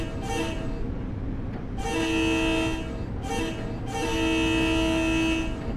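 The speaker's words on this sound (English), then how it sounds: "We'll make sure we're honking so people know." A train horn in the Train Sim World 6 game sounds in several loud, sustained blasts of varying length over the low rumble of the locomotive, with no talk.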